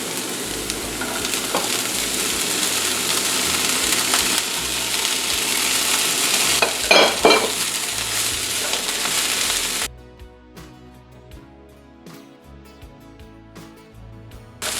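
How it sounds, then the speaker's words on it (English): Onions and parsley sauté in a pan with loud, close sizzling and stirring scrapes for about ten seconds, then the sound cuts to a much quieter stretch of scattered clicks and taps. "Give it a stir and saute for about, let's say, a minute"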